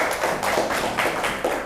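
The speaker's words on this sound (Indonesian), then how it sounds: "Beri tepuk tangan untuk Aska" A classroom group claps for a student who has just earned a point for team 2, a short burst of brisk, uneven hand claps close by with no talk over it.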